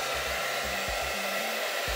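A hair dryer runs steadily up close while a golf grip is being loosened, a constant loud whooshing roar with a faint low hum wavering beneath it.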